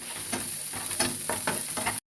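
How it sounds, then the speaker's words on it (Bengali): Onion and garlic frying in a pan for an egg curry, a steady hiss of sizzling oil with rhythmic scraping strokes of a spoon stirring about every quarter second, close and continuous. "পেঁয়াজ আর রসুনটা ভালো করে কষা করে নেব"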